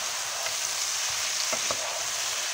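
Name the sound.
minced garlic and parsley frying in olive oil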